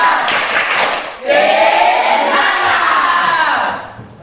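Students in a classroom doing a rhythmic spirit clap, then breaking into a loud, sustained group shout that swells and holds for a couple of seconds before fading, close and boisterous.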